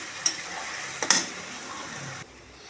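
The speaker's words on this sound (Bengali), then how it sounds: "পেঁয়াজ বাটাও দিয়ে দিলাম, দিয়ে একটুখানি নাড়াচাড়া দিয়ে দিব।" Onion paste frying in a pan for an egg curry and being stirred: a soft, steady sizzle with a couple of brief scraping clicks from the utensil, close by, then the sound suddenly drops quieter.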